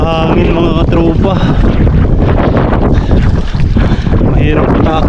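Strong gusting wind roars across the microphone on a fishing boat, loud and continuous, with water and engine noise churning underneath.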